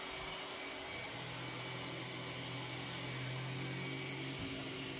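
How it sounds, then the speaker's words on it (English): A Roomba S9 robot vacuum cleaner runs on a bathroom rug with a steady, loud motor whir and broadband hiss, with no voices over it. "trying to talk over the Roomba S9 was impossible"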